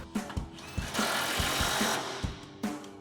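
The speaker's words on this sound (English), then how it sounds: "Then we're gonna grab our impact and 21mm socket and tighten that down." An impact wrench with a 21mm socket tightens the top mount of a 3-inch front lift strut on a 2007-2018 Chevrolet Silverado 1500, firing in several short, loud hammering bursts close by with brief pauses between them.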